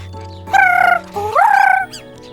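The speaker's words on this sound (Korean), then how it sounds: "삐삐삐 지저귀는 산새도 만났죠." A small mountain bird in a children's cartoon gives a few bright, tonal chirps, one sliding upward in pitch, clear and close against a quiet background.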